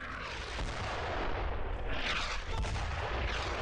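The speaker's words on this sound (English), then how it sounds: "Especially when there's an AMG and a mortar." Sustained mortar and machine gun fire from the World War II shooter Brothers in Arms: Road to Hill 30, a dense continuous barrage of bursts and booms, loud and close, with no voices.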